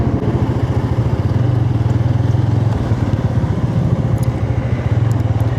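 Motorcycles ridden along a mountain road toward Gangtok in Sikkim: a steady, close engine drone with a throbbing low pulse that holds throughout without a break, with no talking.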